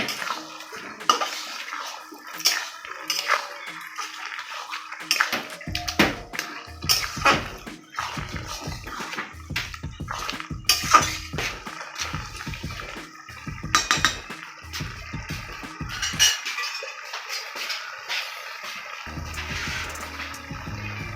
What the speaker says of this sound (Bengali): এখন আমি লাড়াচাড়া করবো,